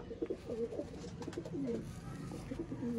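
Male pigeon cooing in a loft, a series of soft low throaty coos repeated in quick rhythmic phrases, close by and alone without talk.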